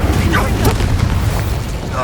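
Incendio fire spell cast in Hogwarts Legacy on PS5, a loud whooshing burst of flame with a booming, crackling roar that carries through the whole moment.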